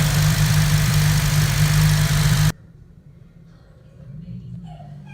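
A Honda car engine runs loud and close for a few seconds, then cuts off abruptly to near silence with faint background noise.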